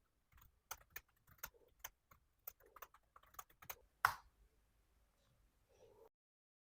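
Keys tapped on a computer keyboard while entering a command in a Linux Mint terminal, irregular clicks with a sharper keystroke near the end, close but quiet.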